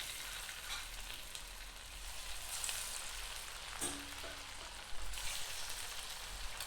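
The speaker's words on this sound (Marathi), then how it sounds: "आतून कच्चे नको राहायला म्हणून मी मध्यम फ्लेमवरतीच याला तळून घेणार आहे" Something deep-fries in hot oil in a kadhai over a medium flame, giving a steady, soft, continuous sizzle heard alone at low volume for several seconds.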